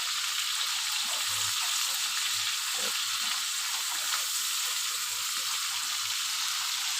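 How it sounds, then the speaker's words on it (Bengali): Prawns lightly frying in a pan give a steady, fairly quiet sizzle and hiss that runs evenly throughout with no break, and no one is talking. "একটু হালকা ভেজে নেব চিংড়ি মাছটা।"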